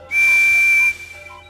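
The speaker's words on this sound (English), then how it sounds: "Yes, that whistle sounds just as important as mine." Cartoon steam engine whistle from a children's railway show, one loud sustained shrill tone lasting under a second, then a faint tail.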